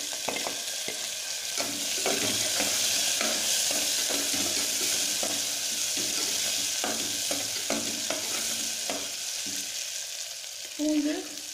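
Cumin, onion and curry leaves sauté in a hot pan for a green gram kulambu: a steady close sizzle with frequent light clicks and scrapes of a stirring spoon throughout, no voices.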